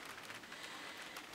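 Rain falls outside, a faint, steady hiss of drops with no voices over it.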